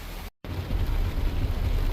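Steady rain falls outdoors at a mountaintop campsite, a dense broadband hiss with low rumbling gusts that may be wind, continuous and fairly loud apart from a brief dropout near the start.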